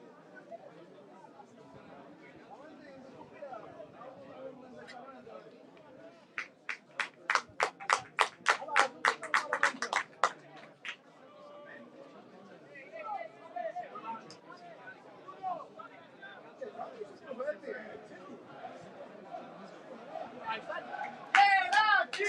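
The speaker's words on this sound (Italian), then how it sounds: "Si fanno sentire i tifosi della Nissa nel settore ospiti dello stadio, rispondono quelli del Geraci" Football supporters of Nissa and Geraci make noise in an Eccellenza Sicilia stadium, a burst of rhythmic clapping rising over distant crowd chatter while a commentator talks throughout.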